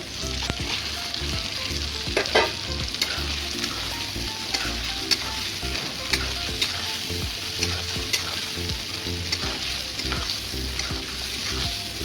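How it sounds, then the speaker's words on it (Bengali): Masala fries steadily in a pan with eggs and capsicum, giving a constant close sizzle broken by occasional stirring clinks and scrapes, with no voices. "এখন আমি ডিম আর ক্যাপসিকাম দিয়ে দেব।"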